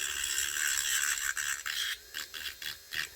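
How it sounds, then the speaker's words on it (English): A Dremel rotary tool grinding down a broken acrylic denture during a home repair, a continuous close raspy whir broken into short bursts as the bit is lifted and pressed again. "It's going to take some grinding because I got a lot of junk there."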